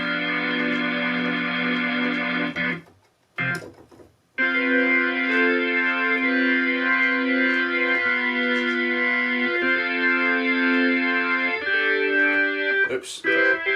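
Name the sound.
organ sound from Halion Sonic synth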